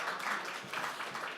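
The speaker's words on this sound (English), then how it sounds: "Everybody applaud the hackathon sponsors, please." Crowd applause at a hackathon awards announcement in New York, a steady wash of clapping with a few cheers, moderately faint and continuous throughout.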